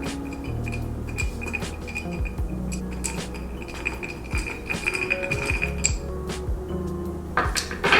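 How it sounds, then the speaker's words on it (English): A spoon stirs a White Russian cocktail of vodka, coffee liqueur and cream in a glass, giving a run of light metallic clinks and ringing taps against the glass at an uneven, brisk pace, up close. "You could see that the cream kind of sinks to the bottom, so I'll give it a nice little stir"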